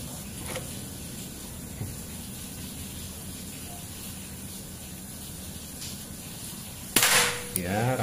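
A PCP classic Biggame air rifle with a 50 cm Yumaja barrel, Monel, charged to 4000 psi and fired single-shot, lets off one sharp crack near the end of a quiet, hissy stretch, followed by a brief fading tail.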